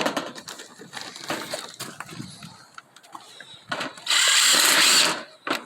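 A power drill drives a screw into black metal mobile home skirting in one loud, steady burst of about a second, after scattered faint clicks and handling taps.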